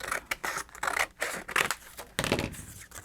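Scissors snipping through a scrap of fabric during sewing work, a steady series of close, crisp cuts repeating every fraction of a second, loud and alone.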